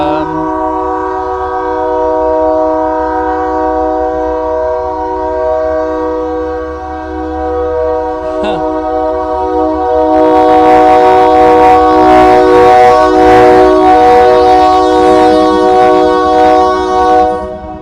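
A Union Pacific freight train blasts a long, loud, steady multi-tone horn nearby, then roars past with heavy rumbling, clanking wheels and rail noise as the horn keeps sounding over it.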